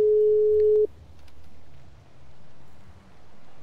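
Single steady telephone call tone from a phone dialing out, sounding for under a second before cutting off, followed by faint low background hum and quiet rustling.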